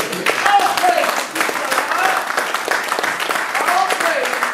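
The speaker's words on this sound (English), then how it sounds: "Let's give him a round of applause." An audience at a Mississippi state meeting applauds, with steady, dense clapping from a crowd continuing without a break.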